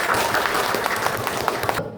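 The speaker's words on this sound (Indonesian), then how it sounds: "Tepuk tangan." Classmates applaud after a group history presentation in a school classroom, a short burst of dense, close clapping that cuts off abruptly.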